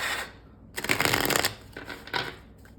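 A tarot card deck is riffled and shuffled close up, a bright rapid flutter of cards in two or three bursts with brief pauses between.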